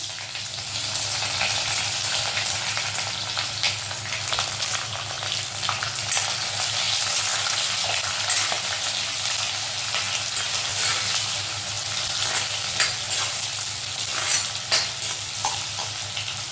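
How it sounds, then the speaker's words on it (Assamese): Onions frying and sizzling in hot oil with bay leaves and whole spices for an Assamese-style mutton curry, a steady, close crackle that runs without a break, with occasional stirring scrapes and no talking. "পিঁয়াজখিনি 5 মিনিটমান ভাজি ল'ম"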